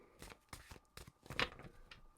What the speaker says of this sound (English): So right now I'm just shuffling the cards